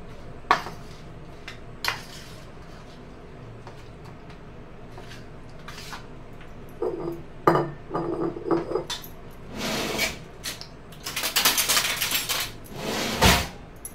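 Homemade pickle spooned into a jar: scattered metallic clinks and taps of a spoon against dishes and jar, sparse at first, then busier scraping and clattering toward the end, close and fairly quiet, with no talking.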